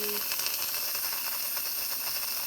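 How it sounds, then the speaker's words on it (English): Steam venting from the pressure release valve of an Instant Pot cooking beef stew, a steady close hiss that stays even for the whole short span. "I'm going to open the valve and let out any remaining pressure that's in there"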